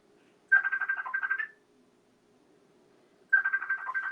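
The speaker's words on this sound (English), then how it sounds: "Do you hear that ringing?" A phone rings in two separate electronic bursts with a gap between them, clear and fairly close against a quiet background.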